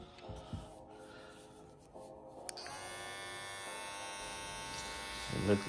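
An Oster hair clipper buzzes steadily and fairly quietly, close by, its electric hum holding even after switching on and ending in a brief rustle.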